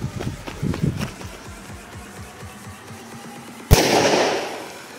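A Dumbum mini firecracker goes off in a single sharp, loud bang after a quiet fizzing lead-up, with a short noisy decay afterward; someone speaks briefly beforehand.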